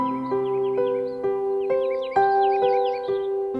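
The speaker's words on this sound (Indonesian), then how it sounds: "Kicauan ini terancam tak terdengar lagi" Crow cawing in repeated harsh calls with other birds chirping overhead, a steady layered chorus of calls stacked close together, fairly loud and clear with no talking.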